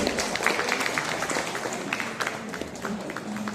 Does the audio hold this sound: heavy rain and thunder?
no